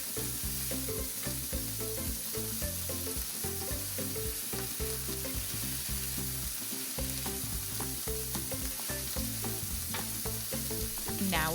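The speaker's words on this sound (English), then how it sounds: "We let the burgers cook for about 3 to 4 minutes and then we flip." Burger patties fry on a hot surface with a dense, steady sizzle that carries on without a break. The sound is close and fairly quiet, and no one speaks.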